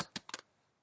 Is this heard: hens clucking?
no